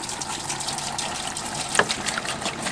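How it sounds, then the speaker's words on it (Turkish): Water pouring into a small portable caravan washing machine, a steady splashing gush that runs evenly throughout with a brief bright splash near the middle, close and moderately loud, no talking. "Suyu koyuyoruz."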